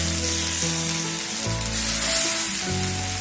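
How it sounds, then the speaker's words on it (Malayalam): A snack frying on a cast iron tawa suitable for induction, giving a steady close sizzle with shifting hum tones throughout, no talking. "ഞാനിത് 2 ബാച്ചായിട്ടാണ് ഇതുപോലെ ഫ്രൈ ചെയ്തെടുക്കാൻ പോകുന്നത്"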